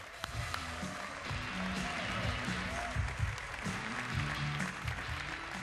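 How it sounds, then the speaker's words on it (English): Steady applause from a large crowd at the E3 Expo 2011 fills the room, with a low murmur and scattered cheers running beneath the clapping throughout. "Here to talk about it, give me a round of applause for Antoine Henri, everybody."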